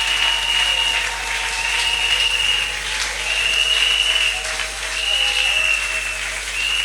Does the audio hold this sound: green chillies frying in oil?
no